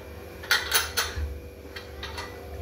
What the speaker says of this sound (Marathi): आता कुकरला झाकण लावून घेते मी